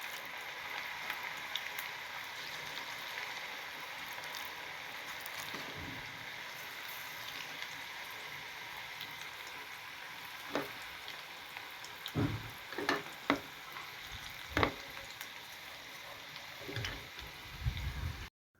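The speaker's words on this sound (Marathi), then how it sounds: "असे थोडे थोडे पकोडे टाकून घ्यायचे छान आणि" Onion pakora batter drops into hot oil and deep-fries with a soft, rain-like crackle, punctuated by several sharper bursts as more pieces go in toward the end.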